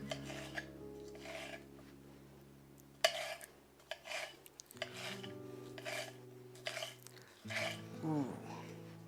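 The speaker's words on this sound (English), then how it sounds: "cut it down the middle, and we're going to thin slice." A knife thin-slicing beef for machaca on a cutting board, a run of short rasping strokes in an uneven rhythm, close and fairly quiet, with a voice speaking between cuts.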